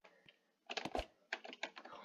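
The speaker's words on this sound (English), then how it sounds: "You guys can hear it go clickety clackety." Rapid clicking of computer keyboard keys comes in two quick clusters of taps, close and fairly quiet, with a short pause between them.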